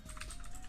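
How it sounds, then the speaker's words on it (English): Keys clatter on a computer keyboard in a quick, steady burst of typing, close and clear with no voices. "We're going to type in google.com."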